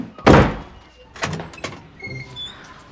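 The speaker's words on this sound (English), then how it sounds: "Swinging door." A swinging door in a film thuds open with a loud, close impact, followed by a few softer bumps and creaks as it swings back and forth.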